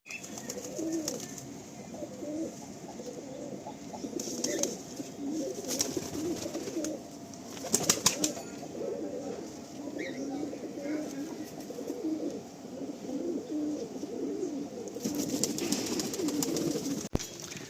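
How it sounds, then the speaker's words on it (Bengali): Malwai pigeons in Surya Da's loft in Howrah coo continuously in a dense, overlapping chorus, with occasional brief louder bursts of movement or flapping. "সূর্যদার লফটের পায়রা আপনারা দেখছেন, সবই মালবাহী পায়রা, ডিরেক্ট আনা পায়রা।"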